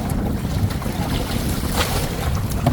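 Strong storm wind in the Philippines during rainy season, a loud continuous roar buffeting the microphone with gusting rumble and no talk.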